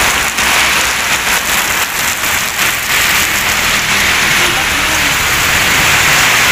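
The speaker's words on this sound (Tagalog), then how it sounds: "Bumuhos na yung ulan." Heavy rain pouring down on a shelter during a motorcycle ride near Tagaytay, a dense steady hiss of drops pattering on surfaces, loud and continuous.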